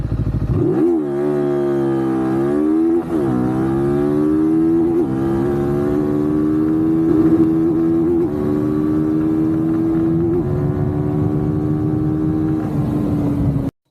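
A Cyclone RA401 motorcycle accelerating hard, its engine climbing steadily in pitch through the gears with brief drops at each shift, loud and close with no talk over it.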